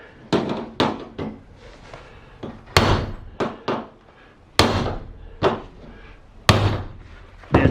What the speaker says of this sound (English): either use your air hammer or just a mallet, steel mallet, and your chisel bit.